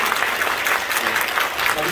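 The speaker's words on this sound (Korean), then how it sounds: "큰 박수로 축복해 주시기 바랍니다" A congregation claps loudly for newly ordained deacons during a church's 45th anniversary ordination service, a thick, continuous roar of hands filling the whole moment, with a voice faintly mixed in.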